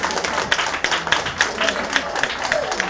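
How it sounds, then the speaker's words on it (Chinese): Audience applause at a customer testimonial gathering, with scattered rhythmic hand claps rising under ongoing speech, fairly faint and brief. "给他掌声快"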